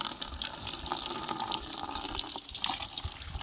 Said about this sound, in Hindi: अभी इसको धो रहे हैं